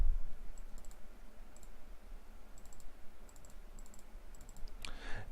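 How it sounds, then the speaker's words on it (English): Computer mouse clicks while setting up an NBA 2K game menu, heard as several quick paired clicks spread through the clip, soft and close over a quiet background hiss, with no talking. "I say everyone's a starter, so I have to double click these."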